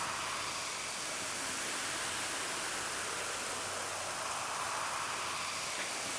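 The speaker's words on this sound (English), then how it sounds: "we have some Coke Zero on deck, which I'm going to be pouring into here" Coke Zero is poured into a glass, making a steady hissing fizz of bubbles that stays close and fairly quiet with no talk.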